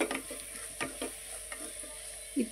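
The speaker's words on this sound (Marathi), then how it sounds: "भाजी परतत असताना आपल्याला अधूनमधून सतत हलवत राहायचे" Fenugreek and gram flour sabzi stirred in a nonstick kadhai, with occasional soft scrapes of the spoon over a steady low sizzle and a constant faint hiss, close and quiet.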